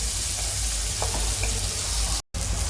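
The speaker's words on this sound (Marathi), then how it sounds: "आता ही आपली मटकी चांगली फ्राय झालेली आहे" Moth beans (matki) frying with chopped tomato in a pan for Kolhapuri-style misal, a steady close sizzle with faint stirring, briefly cutting out near the end.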